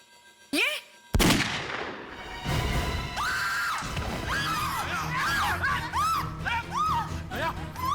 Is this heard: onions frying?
no